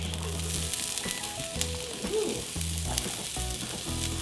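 Potatoes fry in a pan for a from-scratch shepherd's pie, giving a steady, close hiss and crackle that runs throughout beneath soft background music.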